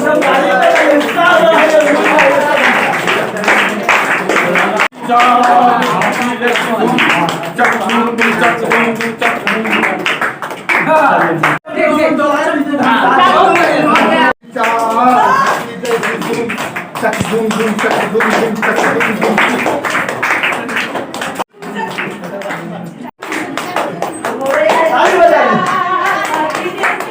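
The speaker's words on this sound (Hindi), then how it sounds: "ताली बजाइए, कम से कम ताली बजाइए," A group claps hands in steady rhythm during a chanting activity, the claps mixed under loud, continuous singing voices throughout.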